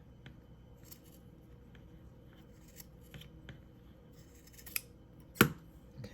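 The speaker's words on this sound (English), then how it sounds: "I'm just going to bring them together and cut just like this" Scissors snip through denim while tassel earrings are being made, a few soft close cuts followed by one sharp, louder snip near the end, with no talking.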